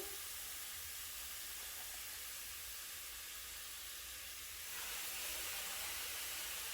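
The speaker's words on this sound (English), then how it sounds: "we're gonna go ahead and add our pork chops to the pan" Pork chops hit a hot pan with a steady, broad sizzling hiss that stays constant and close, swelling slightly louder toward the end, with no voices.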